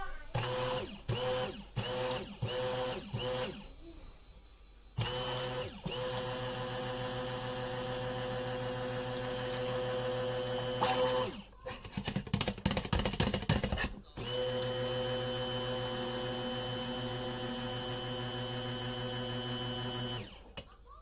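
A stick blender whirs through thick almond cold process soap batter in several bursts: short pulses first, then long steady runs broken by a brief rattling pause, fairly close and alone.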